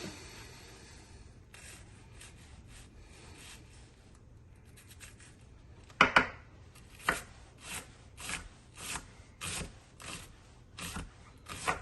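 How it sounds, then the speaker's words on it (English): A knife chops onions on a board during asparagus soup preparation, with a row of sharp, evenly spaced cuts in the second half, at first near and distinct, then fading into softer rhythmic strokes. "I will be back with you when I finish cutting up the rest of the onions"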